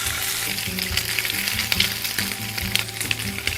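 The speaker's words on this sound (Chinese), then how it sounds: "锅里放橄榄油，然后这个虾滑的这一面先下锅" Shrimp paste sizzles in hot olive oil in a pan with a loud, steady frying hiss, broken by a few small clinks and stirring sounds.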